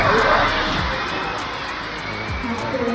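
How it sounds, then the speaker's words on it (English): A crowd of excited school kids cheers and shouts continuously at moderate distance, a dense wash of young voices with scattered louder whoops and some nearby talk. "listen to this crowd as we're walking up"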